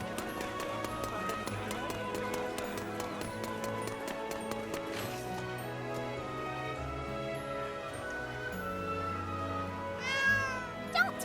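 A cat meowing in Granblue Fantasy: Relink, set in the back streets of Seed Hollow, heard as a short mewing call near the end over continuous game music.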